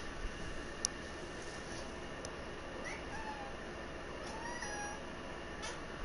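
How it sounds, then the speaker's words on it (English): A cat gives a few faint, thin meows against a steady hissing background, with no one speaking. "Little kitty."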